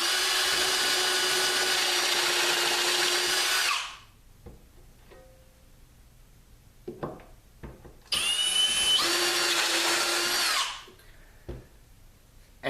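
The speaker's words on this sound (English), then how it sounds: "the barrel trimmer and you just go down into the wood until the trimmer hits the tube" Barrel trimmer in a drill boring down into wood around a brass tube held in a small wood clamp, two loud sustained whines of about four and two and a half seconds, with quiet handling knocks between them.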